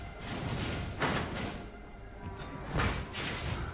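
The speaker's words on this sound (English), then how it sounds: "When holding ADS and shift, you will open and close the door." Door in Apex Legends sliding open and shut twice, each movement a loud whooshing burst with a thud, set against steady game ambience.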